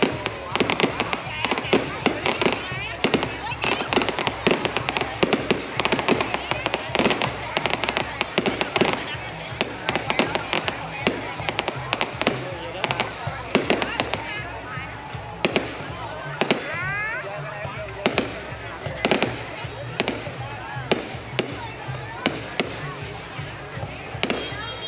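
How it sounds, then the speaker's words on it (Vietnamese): A fireworks display in U Minh district, Ca Mau, sends out a dense, continuous run of cracking bursts and popping crackle, loud and near. Voices talk now and then under the blasts. "bắn pháo hoa huyện U Minh nè"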